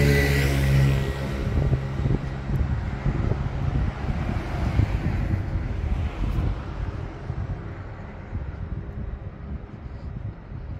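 Wind rushes across the microphone at night on the beach promenade at Playa de Palma, Arenal, Mallorca, a steady rumbling gusty noise that is loud at first and eases slightly over time.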